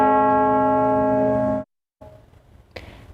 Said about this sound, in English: Bells have tolled around Britain and mourners are gathering to honor Queen Elizabeth II